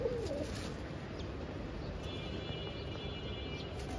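Pigeons in a loft housing many breeds, including Budapest pigeons, give low soft coos in a steady broadband hum, with a brief faint call at the start and a high thin tone later.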